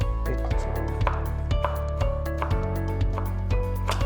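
Fresh coriander is chopped with a knife on a board in a home kitchen, a quick, regular series of sharp knocks, close and fairly loud, with a low hum underneath.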